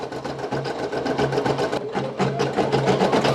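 Brother PE800 embroidery machine stitching out a patch, a loud close rapid mechanical chatter of needle strokes with a steady rhythm and brief pauses.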